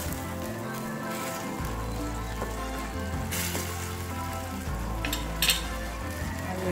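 Paneer masala frying in a pan as crushed ginger is added, a soft continuous sizzle with low rumbling and a few brief louder scraping stirs.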